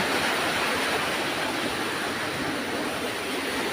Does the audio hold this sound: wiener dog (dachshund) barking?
no